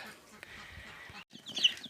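Chickens cluck softly in a short burst, fairly near, with a brief pause and then more clucking.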